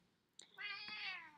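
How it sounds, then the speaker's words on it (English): A house cat gives a single drawn-out meow, fairly soft and close, preceded by a brief faint click. "There's my cat, Pickles, meowing."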